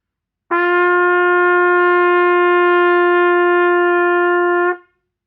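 A trumpet sounds a single open G, fingered with no valves pressed, held steady and clear for about four seconds with a clean attack and release, played alone.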